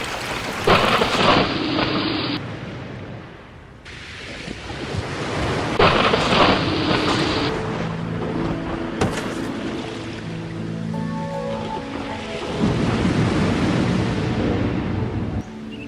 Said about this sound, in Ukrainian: Сашенько, зараз буде злива.